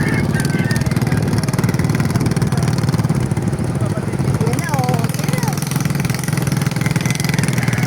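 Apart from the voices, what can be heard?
motorcycle engine approaching and idling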